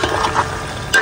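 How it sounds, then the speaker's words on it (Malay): Sacrificial meat fries briefly in a pan, a close sizzling hiss with a short stirring scrape near the end. "Goreng sekejap je. Ni daging korban yang aku dapat."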